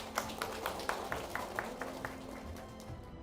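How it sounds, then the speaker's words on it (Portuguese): Following a baptism in an Amazon mission community, a small gathering claps in a slow, even rhythm of distinct, fairly faint claps. "Uma salva de palmas"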